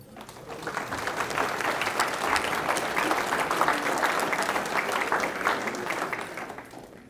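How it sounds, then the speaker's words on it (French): Steady applause from a village audience at a municipal New Year's address in Andilly-les-Marais, with dense clapping that swells and holds for several seconds before fading. "Je pense qu'on peut les applaudir."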